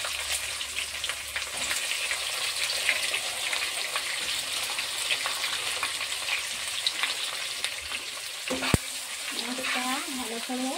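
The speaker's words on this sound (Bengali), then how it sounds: "পেঁয়াজটা ভালো করে ভেজে নেব" Sliced onions fry in hot oil with whole spices for mutton curry, giving a constant close-up sizzle with light stirring. A sharp knock comes near the end, followed by a brief faint voice.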